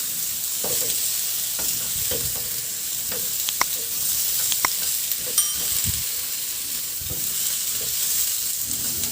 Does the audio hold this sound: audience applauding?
no